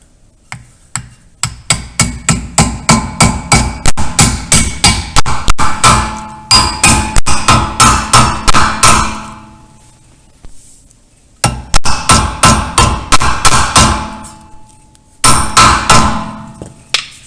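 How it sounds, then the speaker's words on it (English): A mallet taps a dust cap onto the rear wheel hub of a VW Golf mk4 in quick, loud, rhythmic runs of blows. Several bursts are separated by short pauses. "Okay, don't forget your dust cap. If you have a mallet, this works perfect."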